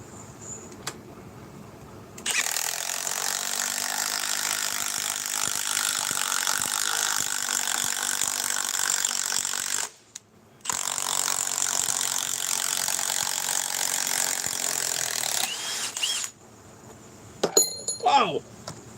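A Milwaukee power tool runs hard while tightening, giving two long, loud, steady whirring runs split by a brief pause. A short voice follows near the end.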